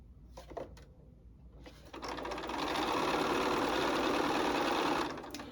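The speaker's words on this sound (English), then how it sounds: "I am stitching down that line" A sewing machine stitching a quilt block seam: a few short clicks first, then a fast continuous run of needle stitching for about three seconds before it stops, close and clear.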